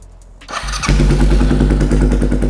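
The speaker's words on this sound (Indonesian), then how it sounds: "Tuh, jadi suaranya Thunder itu khas banget ya." A Thunder 250 twin-port engine in a chopper motorcycle fires up after a brief thump and settles into a loud, steady, throbbing close-up run that holds to the end.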